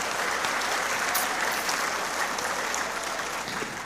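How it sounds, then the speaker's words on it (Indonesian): Steady applause from an audience at the LDII national working meeting (Rakernas) 2023, a dense, continuous wash of clapping held at even loudness for about four seconds with no talk over it. "Nah, boleh tepuk tangan buat LDI ini."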